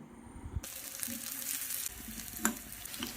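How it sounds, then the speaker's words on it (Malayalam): Chopped ginger and small shallots frying in coconut oil for a prawn mango curry, starting with a quiet sizzle that swells into a fuller, steady crackle, punctuated by a sharp clink of the spoon. "നമ്മൾ മാറ്റി വെച്ചിരുന്ന ഇഞ്ചിയും ചെറിയ ഉള്ളിയും അരിഞ്ഞതും കൂടെ ചേർത്ത് വറുത്തെടുക്കണം"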